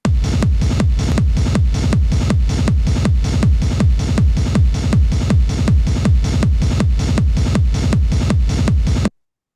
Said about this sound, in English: you can probably hear now that it's getting like a real pumping sound